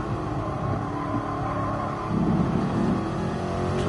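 Engine of a Mercedes Black Series car in a racing video game, a steady drone on a leisurely drive around the Nürburgring, with a slight rise in revs partway through.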